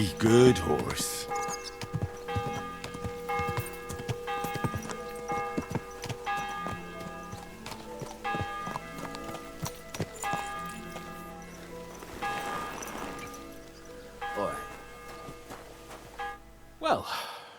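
Horse hooves clip-clop in a steady walking rhythm in the medieval game Kingdom Come Deliverance 2, moderately close, alongside in-game music, bell tones and a character's voice.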